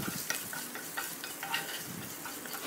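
Boiled potatoes being stirred with spices in a hot pan, a sizzling bed broken by repeated scraping strokes of a spatula at close range, with no talk.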